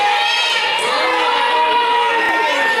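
A large wrestling-event crowd cheers and shouts in a steady, dense roar, loud and continuous, with children's yells mixed into the noise.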